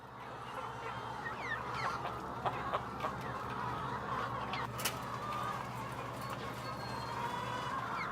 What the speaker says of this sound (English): The chickens go about freely eating wheat and barley.